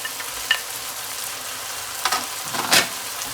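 Mushrooms stir-fried in a pan with chicken and onion, a continuous frying sizzle broken by several scraping stirs and clicks of a utensil, close and alone.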